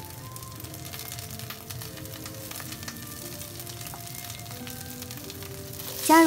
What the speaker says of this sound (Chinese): 锅烧热，放油，再放葱花炒香